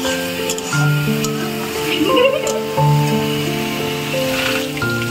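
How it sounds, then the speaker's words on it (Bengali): Fish, banana and potato frying in spiced paste in a pan while being stirred, a soft steady sizzle with scraping stir sounds beneath music. "এখন হচ্ছে আমরা রান্না করছি কলা দিয়ে, আলু দিয়ে, মাছ দিয়ে, তারপরে মশলা বাটি দিয়ে, কলা দিয়ে এখন নাড়াচাড়া করা হচ্ছে।"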